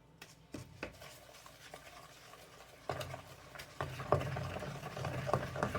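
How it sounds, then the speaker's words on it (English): A spoon stirs brown sugar into eggs in a bowl for a 1930s-style vinegar pie, soft scraping and tapping strokes that start sparse and quiet, then grow busier and louder in uneven clicks against the bowl. "Just mix that in with those eggs."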